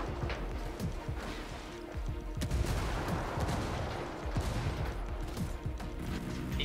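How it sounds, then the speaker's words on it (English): Mortar fire and heavy gunfire in the video game Ghost Recon Wildlands, a dense, continuous barrage of booming blasts and crackling shots with scattered impacts throughout, loud and chaotic with no talk over it. "Oh, mortars."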